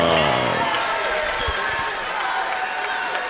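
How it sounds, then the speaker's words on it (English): A boxing event crowd applauds the runner-up, a dense, sustained wash of clapping and cheering with an announcer's voice over it at the start. "ladies and gentlemen, a round of applause for your runner-up, Matt McKeown"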